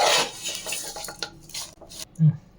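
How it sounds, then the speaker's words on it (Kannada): Peanut and sesame powder being mixed with jaggery into a masala, with close spoon-on-metal-vessel scrapes and clinks in an uneven rhythm, ending in a brief low thump. "ಮಸಾಲೆ ಎಲ್ಲ ಸ್ವಲ್ಪ ಕಲಿಸ್ಕೊಳ್ಳೋಣ, ಎಲ್ಲ ಮಿಕ್ಸ್ ಹಾಕಿ"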